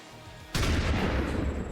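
Gunfire in the video game XCOM 2: a single loud, sharp burst that begins suddenly and holds a dense, rumbling roar to the end, with no talk over it.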